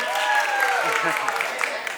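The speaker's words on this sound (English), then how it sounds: "Round of applause for Tiger." An audience at a music-industry sustainability panel applauds the event's lighting person, a short burst of clapping and cheering with voices and a whistle-like tone riding over it.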